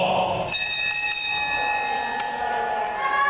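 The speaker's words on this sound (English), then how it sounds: "there's the bell for round 4" A boxing ring bell rings sharply near the start and again later, signalling round 4 of a wrestling main event, ringing tones sustaining over a noisy, echoing background.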